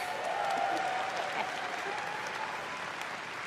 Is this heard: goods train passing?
no